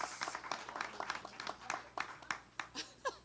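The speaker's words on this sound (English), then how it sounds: "Let's clap it up for Claudia." An audience at a business event claps for a presenter, a loose scatter of individual handclaps that starts fairly dense and thins out into separate, spaced claps toward the end, moderately distant and fairly quiet.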